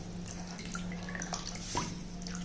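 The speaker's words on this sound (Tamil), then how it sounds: "தண்ணி ஃபுல்லாக கீழே இறங்கிரும்." Water draining through a sieve from soaked pearl millet into a pot below, a faint trickle with a few soft drips over a steady low hum, quiet and close, with no voices.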